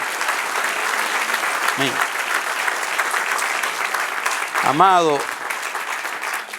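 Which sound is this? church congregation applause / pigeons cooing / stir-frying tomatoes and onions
church congregation applause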